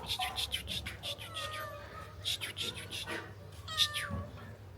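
A cat meows repeatedly nearby, short rising cries in a series, with a person speaking softly in between.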